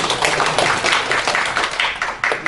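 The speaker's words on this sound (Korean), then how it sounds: "박수 주십시오" An audience at a 2018 panel discussion forum applauds with steady, dense clapping that carries on for a couple of seconds at close range.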